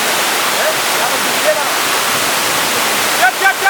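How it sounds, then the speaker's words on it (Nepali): Muse waterfall in Nepal, a cascade on the Muse stream; a loud, constant roaring rush of falling water fills the scene from up close, with brief faint sounds of people near the end. "हामी मुसे झरनामा आइपुगेका छौँ।"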